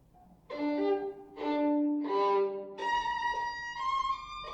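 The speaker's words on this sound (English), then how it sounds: "I'm pretty sure that's a violin." A violin played next door, muffled through an apartment wall: a few sustained bowed phrases, the first three swelling then fading, followed by a longer held melodic line, at moderate level and alone.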